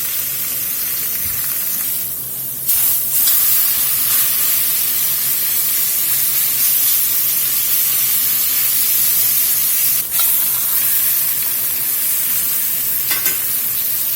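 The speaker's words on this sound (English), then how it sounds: "We're going to let this brown up real good on both sides." Beef browning in a pan over medium-high heat, a steady loud sizzle and spatter holding through with no pauses and brief sharper bursts where the meat is stirred or turned.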